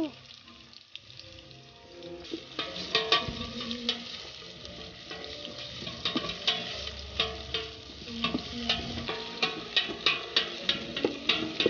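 Pork offal sautés in a pan for paksiw, sizzling and frying steadily while a utensil stirs and scrapes it in regular strokes.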